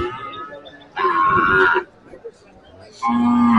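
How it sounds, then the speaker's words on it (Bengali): Cows mooing at a busy cattle and goat market: a long, loud, close moo followed by a pause with low background murmur, then another moo starting, amid other bellowing livestock. "দেখতে পাচ্ছেন এখানে প্রচুর গরু আছে, গরুটাও ডাকতেছে একটা গরু"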